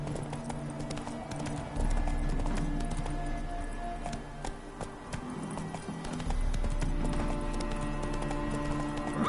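A horse named Roach gallops in The Witcher 3, its hooves clip-clopping in a quick, steady rhythm close up over a rumbling game background that swells and fades.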